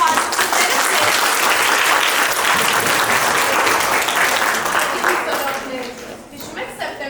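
Applause at a first-grade school class performance, dense and sustained from a large audience, clapping steadily before thinning out toward the end.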